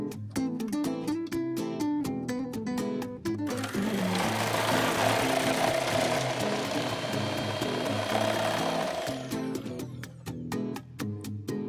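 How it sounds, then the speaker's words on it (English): A Bajaj food processor fitted with a coarse slicing disc shreds red cabbage in a loud, steady whirring run of several seconds, with lighter clicking and handling sounds before and after. "Now I'm going to shred the cabbage. For that, I'm going to use a coarse slicer."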